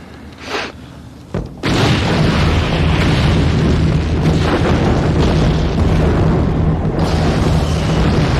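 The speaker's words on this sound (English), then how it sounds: "we were all anxious for the barrage to begin" An artillery barrage erupts: after a couple of faint thuds, a massive continuous roar of explosions begins and sustains loudly, with overlapping booms and rumbling blasts filling the whole stretch.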